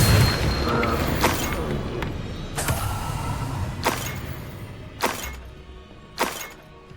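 A Confringo spell explodes in Hogwarts Legacy during a fight, and several sharp blasts and crashes ring out one after another with short pauses between them, over a dull rumbling background.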